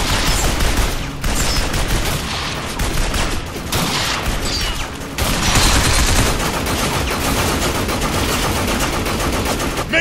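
Heavy, sustained automatic gunfire in the video game Binary Domain, loud dense bursts rattling continuously for several seconds with brief lulls, no talking.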